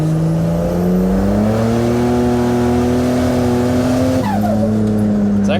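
The turbocharged engine of a budget VL wagon revs hard under boost during street tuning, a loud, continuous rising drone that climbs, dips sharply, then pulls again, with voices talking over it.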